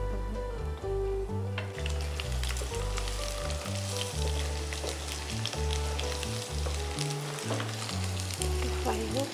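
Garlic paste spatters and sizzles in hot oil, a bright dense crackle that builds from a quieter start, with a melodic music bed running underneath throughout.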